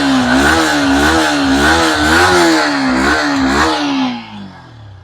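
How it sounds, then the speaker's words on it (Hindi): Close, loud engine of a Yamaha XSR 155 motorcycle, revved in repeated rising-and-falling blips with a rough, throbbing exhaust note, then dropping off sharply toward idle near the end. "ये है इसका साउंड यामाहा XSR 155 का।"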